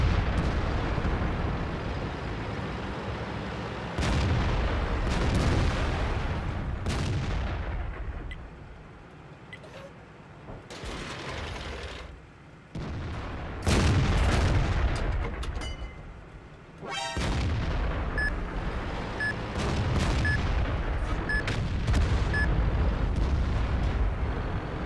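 Tank cannon firing high-explosive shells in the video game World of Tanks: a series of heavy, booming blasts, each followed by a rumbling decay, loud and close, spaced several seconds apart.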